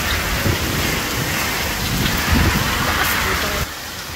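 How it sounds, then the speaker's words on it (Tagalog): Heavy rain mixed with hail drums steadily on a roof, a dense, loud, continuous hiss with irregular thumps from hailstones, and wind gusting through it. "May kasama pang yelo."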